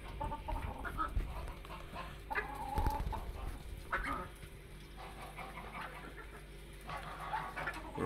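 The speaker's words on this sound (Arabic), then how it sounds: "وده الدجاج، ده الديك" Chickens and a rooster cluck softly nearby in short, scattered bursts, with a few louder squawks among low farmyard background noise; ducks are also present.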